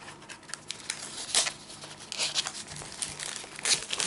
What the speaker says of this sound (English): So let's just get this undone and unwrapped.